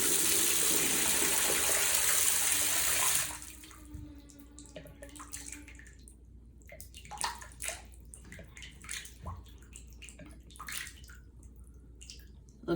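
Water gushes loudly from a tap into a bathtub for about three seconds while an overflow gasket is being tested, then cuts off, leaving quiet drips and faint handling sounds.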